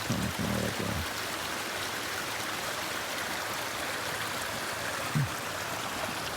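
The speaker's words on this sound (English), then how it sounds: "So you should have a nice little stream right here." Small mountain stream in the high Sierra backcountry flowing steadily, a broad continuous rush of water close by, with a brief low murmur of voice near the start and another near the end.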